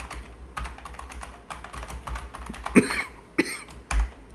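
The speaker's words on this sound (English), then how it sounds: "Sorry about the coughing." Keyboard typing clatters along, then a few coughs break in near the end, close to the microphone.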